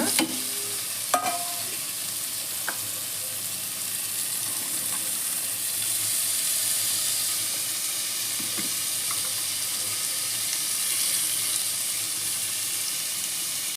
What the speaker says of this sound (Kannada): ಈಗ ನಾವು ಹಚ್ಚಿಟ್ಕೊಂಡಿರೋ ತರಕಾರಿ ಎಲ್ಲ ಹಾಕೊಳ್ಳೋಣ